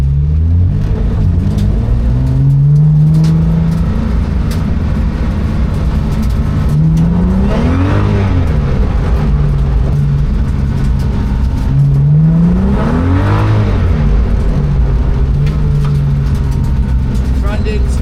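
A car lapping a race track on a track day, its engine droning loudly and steadily throughout, with pitch sweeping up and down through repeated accelerations, someone talking over it.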